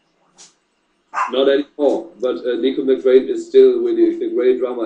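A dog barks in the background while someone talks steadily over it, the barking partly buried under his voice.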